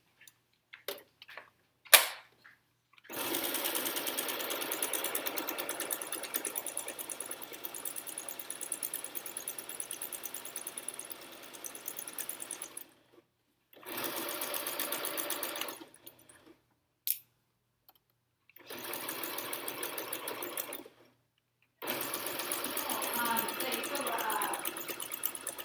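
A sewing machine stitches a pee pad in several long, steady runs separated by pauses, close and buzzing, with brief clicks at the start.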